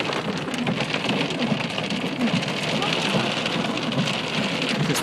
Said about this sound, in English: just came through a big hailstorm.